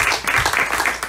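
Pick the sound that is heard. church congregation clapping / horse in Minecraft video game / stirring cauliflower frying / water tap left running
church congregation clapping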